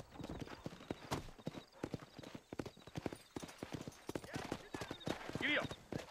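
Horse hooves clip-clop steadily while a horse is ridden in Red Dead Redemption, close and irregular thuds at a walking pace, with a brief whinny near the end and people talking over parts of it.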